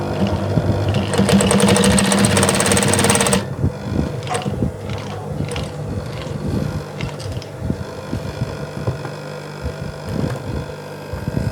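Sewing machine top stitching jean material for a travel bag: a fast, dense mechanical whir for about three seconds, then stops, leaving scattered handling clicks and rustles of fabric.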